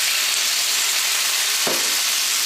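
Tomatoes go into golden-brown onions frying in coconut oil, producing a steady hiss of hot-oil sizzling with a sharp burst near the end as they hit the pan.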